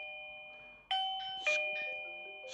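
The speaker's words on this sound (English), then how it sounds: "Press the doorbell." An AOSU Video Doorbell Ultra 2 plays its chime: a sustained electronic tone, then two clear bell-like strikes in quick succession, each ringing out and decaying, close and loud, with a third note starting at the end.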